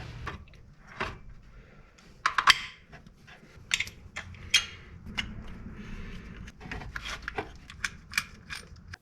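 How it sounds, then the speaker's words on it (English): Ratchet tightening bolts on a car's air conditioning compressor during an R12 to R134a conversion, heard as soft, scattered clicks and metallic ticks with small knocks, fairly quiet and irregular. "Okay, let's put the bolts in."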